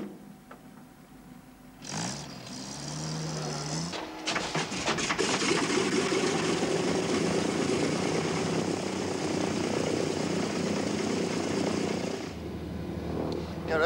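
A propeller aircraft engine on an airliner starts up with a brief whine and cough, then settles into a loud, steady roar that runs for several seconds before dropping away. Voices sound faintly underneath.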